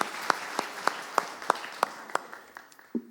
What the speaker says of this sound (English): Just a very quick round of applause.